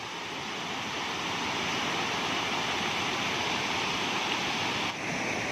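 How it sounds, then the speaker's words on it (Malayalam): Water rushes loudly and continuously along a stream fed by the Kutralam waterfalls in Tenkasi, a dense unbroken roar close at hand with no voices. "കണ്ടോ, ഒരു വെള്ളച്ചാട്ടം പോലെ ഒരു ഇതാണ്."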